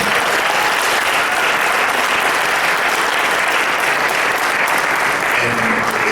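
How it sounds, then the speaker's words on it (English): Audience applauding boxer Jessie Vargas after a close fight: a loud, dense, steady wash of clapping that carries without a break from start to finish. "I just want to give Jessie Vargas a big round of applause"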